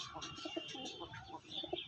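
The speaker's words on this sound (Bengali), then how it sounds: "এই দুটো পায়রার কথা বলছিলাম আমি" Two male pigeons of the Andhra line coo softly in short, low repeated bursts, with faint chirps over a quiet background and no talk.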